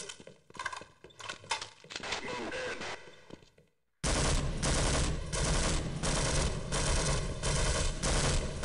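Gunfire in Half-Life, rapid bursts of shots from the player's gun, with choppy firing at first, then a sudden loud, sustained stream of automatic fire with dense repeated impacts.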